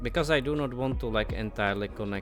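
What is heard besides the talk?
No everyday noises stand out.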